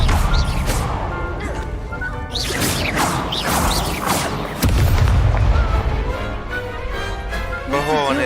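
Combat in the Hogwarts Legacy game brings booming, crashing impacts from the Incendio fire spell over steady background noise, with a thick burst midway and a voice talking over part of it.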